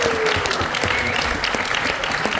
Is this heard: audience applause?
yes